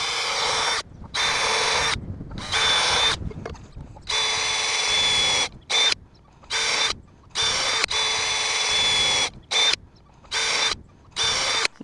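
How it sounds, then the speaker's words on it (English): A power drill bores pilot holes into a 6-inch wooden end board for a raised garden bed, in repeated bursts of steady whirring a second or two long, separated by short silent gaps, close and loud. "I drill my pilot holes in my end board"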